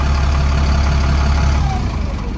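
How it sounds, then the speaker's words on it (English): A double-decker bus's diesel engine idles inside a bus station in the early morning, a loud, steady low rumble that continues unbroken with no one talking. "Just turn the engine off."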